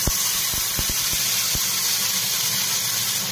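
Asafoetida powder, cumin seeds and a cinnamon piece crackling in hot oil for a tempering, giving a steady sizzling hiss with a few sharp pops near the start.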